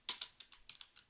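A computer keyboard pressed eight or so times in just over a second, quick crisp clicks heard close and fairly quiet with no voices.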